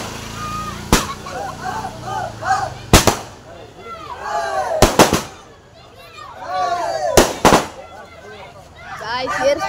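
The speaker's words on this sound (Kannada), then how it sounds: "ಪಟಾಕಿ ಹೊಡೆಯಕ್ಕೆ ಸ್ಟಾರ್ಟ್ ಮಾಡಿದ್ದಾರೆ ಸ್ಕೈ ಶಾಟ್" Sky shot firecrackers burst overhead during a Ganesha immersion procession in Kanakapura, with several loud, sharp cracks spread across the clip over a busy outdoor crowd murmur and faint whistling rises.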